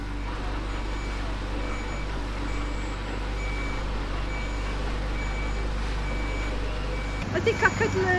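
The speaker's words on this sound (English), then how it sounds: "a little lady from the quarry turned up with her huge lorry" A large quarry delivery lorry reverses at a building site, its backup alarm beeping in a slow regular series over a low diesel rumble, ending with a hiss of air brakes; voices are present beneath.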